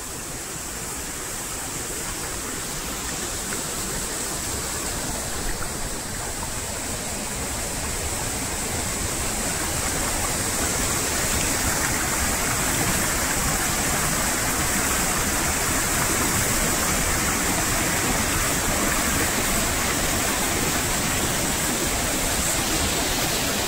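A waterfall in Tansa Wildlife Sanctuary near Shahapur pours in a dense, steady roar, close and loud, swelling slightly partway through and holding constant with no voices.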